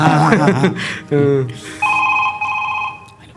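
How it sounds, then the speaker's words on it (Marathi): A phone rings with an electronic tone right after a person speaks briefly, the ring close and clear. "तुझा फोन वाजतोय, उठ"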